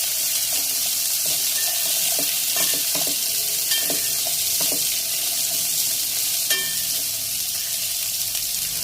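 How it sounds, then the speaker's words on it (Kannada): Garlic, curry leaves and four dried chillies fry in oil in a pan for a greens stir-fry. A constant loud sizzle runs throughout, with scattered scrapes and clinks of a spoon stirring. "ಚೆನ್ನಾಗಿ ಬ್ರೌನ್ ಕಲರ್ ಬರೋ ತನಕನೂ ಫ್ರೈ ಮಾಡ್ಕೊಳ್ಳಿ"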